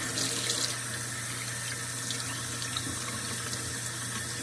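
Warm tap water runs from a faucet into a sink during tie-dye rinsing, making a steady, close hiss and splash that continues unbroken with no voices.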